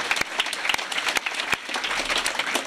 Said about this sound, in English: perhaps we should just thank all of the people who have commitments at this meeting and clap without introducing